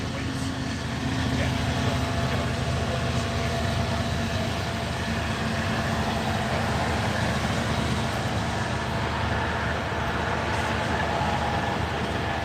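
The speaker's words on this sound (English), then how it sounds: "Now a train's going by." Train rolling past beside a highway rollover scene, a steady loud low rumble that fills the whole stretch.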